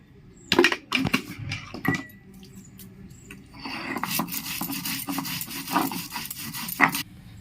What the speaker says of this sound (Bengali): দু চামচ সর্ষে নিয়ে নিয়েছি বেটে নেবো সর্ষের মধ্যে একটু নুন দিয়ে দিচ্ছি